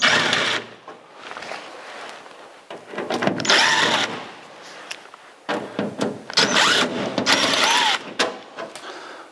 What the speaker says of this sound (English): But now we can take these screws out.